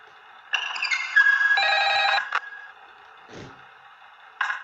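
A telephone rings in the Ultimate Custom Night video game, with electronic bursts of ringing in a couple of sustained stretches, a short gap, and a final brief ring at the end, fairly loud and with no speech.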